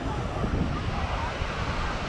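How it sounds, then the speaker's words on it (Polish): Loud, constant roar of surf and wind on an open Adriatic Sea beach at Lido di Venezia, high waves breaking in a dense wash with no pauses. "Zobaczcie jakie fale, bardzo wysokie."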